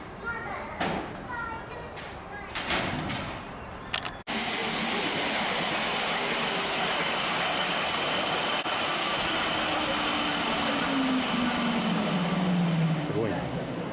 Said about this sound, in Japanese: 列車が走り始めましたので、手すりにしっかりおつかまりください。